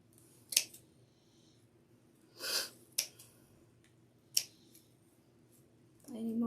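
Scissors snip through deco mesh while an Easter lamb wreath is being made: a few sharp, separate cuts spaced a second or more apart, close and fairly quiet, with a softer rustle between them and a brief voice at the end.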